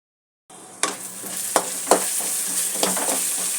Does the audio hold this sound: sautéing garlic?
yes